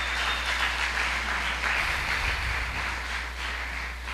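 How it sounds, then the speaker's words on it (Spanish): Audience applause in a Spanish-language church gathering, an even stretch of many hands clapping together, steady and moderately loud over a low background hum, with no voices. "Vamos a darle un aplauso y ese triunfo maravilloso."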